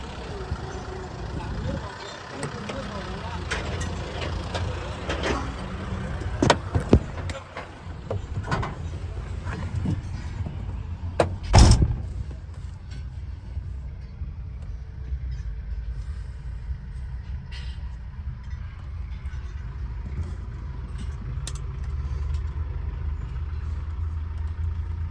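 A tractor engine running on a rural Thai farm, a steady low rumble with a few sharp knocks and clanks, while people talk nearby.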